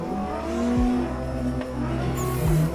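Drift car engine in Assetto Corsa, steady loud revving with gear changes and shifting engine pitch, continuous without talk.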